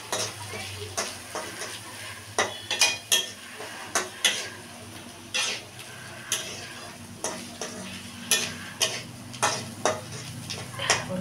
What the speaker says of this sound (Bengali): জিরে গুঁড়ো। দিয়ে একটু কষিয়ে নেবো ভালো করে।